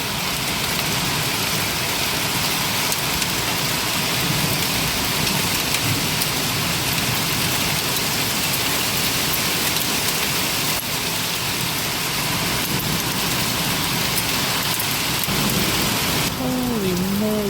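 A hailstorm with heavy rain in Lakeview, Ohio, a steady, dense hiss of falling water and ice that stays loud and unbroken throughout, with a faint rumble beneath and a brief tonal sound near the end.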